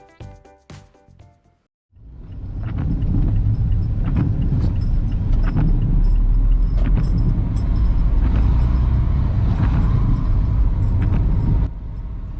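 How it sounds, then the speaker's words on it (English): A car drives along the A6007 between Ilkeston and Heanor. A few faint clicks give way after about two seconds to a loud, steady engine and road rumble heard from inside the car, with no talk. "we're driving along the A6007 between Ilkeston and Heanor, taking in the rest of Shipley"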